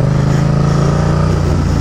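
A motorcycle engine holds a loud, steady roar throughout during wheelie practice with a handbrake, heard up close as a dense continuous drone.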